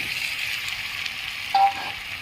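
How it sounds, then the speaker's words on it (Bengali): Pre-fried jackfruit pieces go into hot oil and sizzle steadily and softly at close range, with a brief brighter crackle partway through. "আমি এখন ভেজে রাখা এঁচড়গুলো দিয়ে দিচ্ছি"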